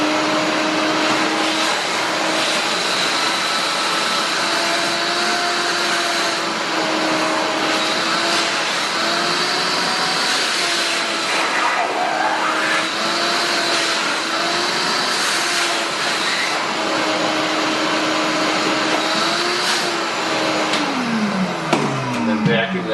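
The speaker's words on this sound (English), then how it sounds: "vacuum that surface off" A vacuum drones steadily at close range as it cleans a wood window sill after veneer repair. The tone holds level with slight pitch shifts as the nozzle moves, and it keeps going for the whole stretch.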